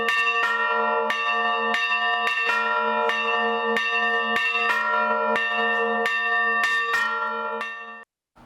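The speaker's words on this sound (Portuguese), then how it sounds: "Que a badalada do sino é a voz de Deus" A church bell rings in a steady, evenly spaced series of about fourteen loud, resonant strikes, each ringing on under the next, before the sound cuts off abruptly.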